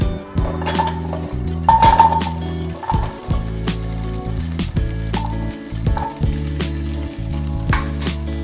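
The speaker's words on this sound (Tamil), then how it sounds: "வெங்காயம் நல்லா வதகணும்." Onions sautéing in hot oil with fenugreek seeds for traditional idi sambar, a steady close sizzle broken by repeated clinks and scrapes of a utensil against the pan, no voices.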